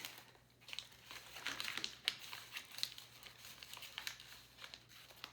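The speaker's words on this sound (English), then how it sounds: "I am kind of crumbling and twisting the paper" A paper bag is crumpled and twisted by hand up close, giving a quiet, continuous crinkling with irregular sharp crackles and rustles and no other sound.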